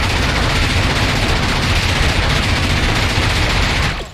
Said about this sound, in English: He repeatedly sticks bullets into each of their bodies.